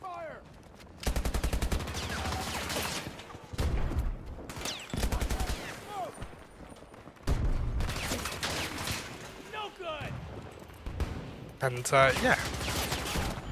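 LMG machine gun fire in the video game Battlefield 2042, heard as several long rapid bursts of loud automatic shots separated by short pauses, along with other in-game sounds and someone talking at times.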